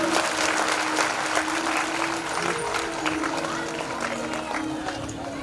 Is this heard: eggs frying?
no